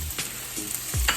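Red onions sizzle in a frying pan, a soft steady hiss with a few brief scraping stirs, close and alone without talk.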